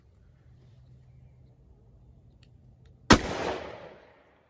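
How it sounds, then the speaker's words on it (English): A 3-inch 686 revolver fires a single 158 grain .357 Magnum Hornady XTP round into ballistics gel: one sharp, loud report after a quiet stretch, followed by a short fading echo. "next up, 3-inch 686, 158 grain 357 Magnum Hornady XTP."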